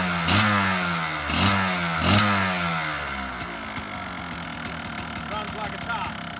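A 2005 Kawasaki KDX 200 two-stroke dirt bike engine runs near and steady, with a few rhythmic surges early on before settling into a continuous buzzing idle.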